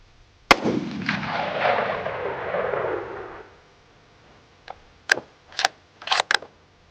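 A single loud, sharp rifle shot from a Ruger American Gen 2 in .308, with a long rolling echo. A few faint clicks and bolt-handling clatters follow.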